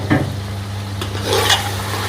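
Chopped tomato is stirred into sizzling masala in a pan for aloo chicken, a few close scraping strokes over a steady frying hiss.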